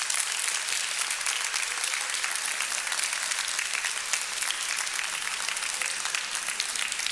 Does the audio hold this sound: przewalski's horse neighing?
no